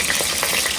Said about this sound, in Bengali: এবার মাছে কালো জিরে ফোড়ন দেবো, ওই জন্য তেল দিয়ে দিলাম